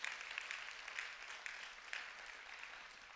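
Church congregation applauding the Lord, a faint, distant wash of clapping that runs steadily throughout with a few sharper claps standing out.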